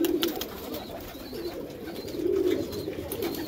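Pigeons cooing on a rooftop loft of many fancy breeds, a steady murmur of overlapping low coos swelling and fading throughout, fairly close, with no talk.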